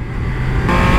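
A Triumph Speed Triple 1200 RR motorcycle accelerating on the road, a loud, close engine drone rising in pitch and intensity over about a second.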